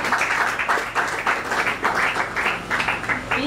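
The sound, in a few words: audience applause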